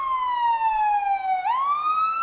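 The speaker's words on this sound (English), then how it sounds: "And if you can hear us over the sirens," A siren wails at a town street parade during the Walnut Festival, one clear tone sliding down, then sweeping back up, loud and close with a steady hum of crowd noise beneath.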